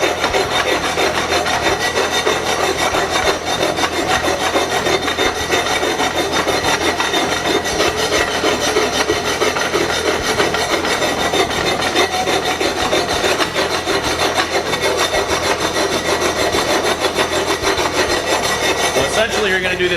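A file rasps steadily across the landing of a 6-inch schedule 40 steel pipe coupon, a continuous dense scraping of repeated strokes, close and loud, with no pauses or talk.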